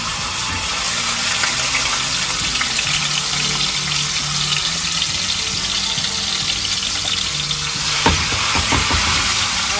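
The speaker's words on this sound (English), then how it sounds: "I'm going to be cooking the meat right now." Thinly sliced meat sizzles steadily in hot olive oil, a close, continuous frying hiss with small crackles and a brief clatter of stirring near the end.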